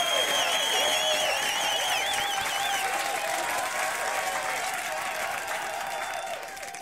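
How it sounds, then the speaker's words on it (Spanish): Sustained audience applause with some cheering, played on an Apex Legends livestream, stays loud and dense throughout and eases slightly toward the end. "Se merece un fuertísimo aplauso aquí, David."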